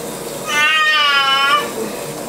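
A cat lets out one long, loud, drawn-out meow close by during a bath, against a steady background hiss.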